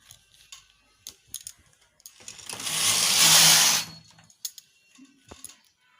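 A sweater knitting machine's carriage slides across one row, a loud raspy mechanical swish lasting about two seconds, surrounded by scattered clicks of needles being set.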